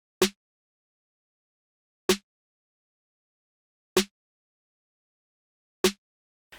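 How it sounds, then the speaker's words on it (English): A simple programmed snare pattern built from sample-pack hits for a hip-hop beat: four crisp isolated hits spaced about two seconds apart, dry and alone with silence between. "I decided to put in a very simple snare pattern just to start off the drums."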